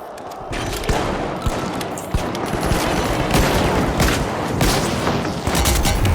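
Gunfire in the video game The Finals rings out in rapid bursts and scattered single shots, sharp cracks over a dense, busy background of continuous combat noise.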